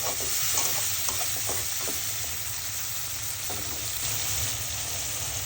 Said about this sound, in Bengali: চিংড়ি মাছ পেঁয়াজের সাথে ভালো করে একটু ভেজে নিব।